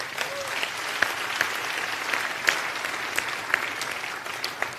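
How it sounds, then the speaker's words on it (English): A church congregation claps during a sermon, a steady wash of many hands with a few sharper individual claps standing out, fairly close and continuous with no talking. "You want to clap?"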